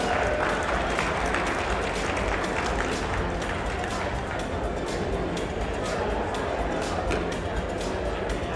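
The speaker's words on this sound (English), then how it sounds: "Give her a round of applause, please." Sustained applause from a crowd at a Western Iowa League tournament, steady broadband clapping holding at an even level for the full stretch, with faint crowd murmur mixed in.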